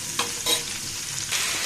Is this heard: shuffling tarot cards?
no